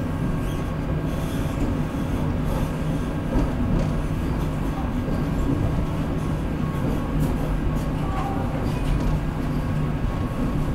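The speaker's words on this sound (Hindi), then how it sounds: "इसी के साथ अपना अराइवल हो रहा है चित्तौड़गढ़ जंक्शन पे" A Vande Bharat Express train pulls into Chittorgarh Junction with a continuous close rumble of wheels and carriage noise, faint squeals and brief voices underneath.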